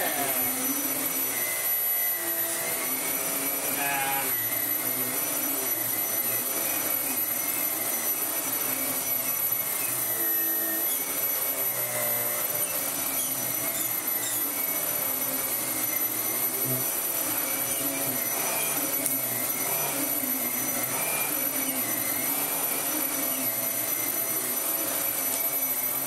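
A Vax Air Lift Steerable Pet Max upright vacuum cleaner runs continuously and loudly at close range, giving a steady high whine and roar with no pauses or talk.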